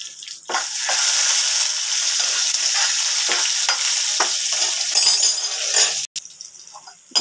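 Green chilies and dried red chilies frying in hot oil in a pan, a loud, steady sizzle right up close with occasional stirring scrapes, cut off near the end by a sharp clink.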